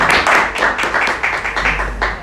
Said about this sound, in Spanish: Mirá los aplausos.